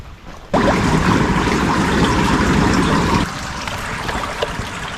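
Stream water trickles and gurgles steadily up close while water is being collected on a spring hike, a full rushing wash that drops to a softer, thinner flow partway through.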